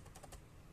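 A quick few soft clicks come from pressing the shift key on a computer keyboard while working in an Excel spreadsheet, quiet and close with no talking.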